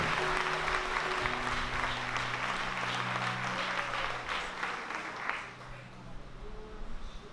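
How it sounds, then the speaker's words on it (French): A church congregation applauds during a Sunday service at a Church of God of Prophecy, a steady wash of many hands clapping that thins toward the end, with organ or keyboard tones and voices underneath. "En nous baille, sœur Venor, un bel applaudissement matin."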